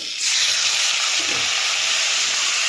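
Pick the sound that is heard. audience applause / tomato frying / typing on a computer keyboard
tomato frying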